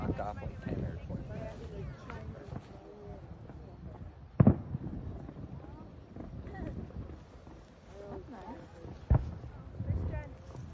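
Canada Day fireworks over a small town, two sharp loud bangs stand out amid crackling and wind buffeting, with people talking throughout.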